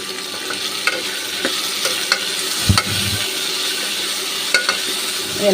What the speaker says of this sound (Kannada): ಟೊಮೆಟೊನ ಸ್ವಲ್ಪ ಫ್ರೈ ಆಗಲಿ ಅಂತ ಅಷ್ಟೇ